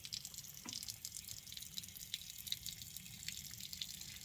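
Water trickles and drips steadily from the lifted rear wheel of a vehicle, faint and close, with soft scattered droplets over a quiet background.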